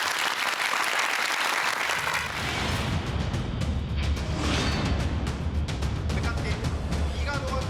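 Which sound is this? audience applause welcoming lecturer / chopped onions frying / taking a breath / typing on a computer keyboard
audience applause welcoming lecturer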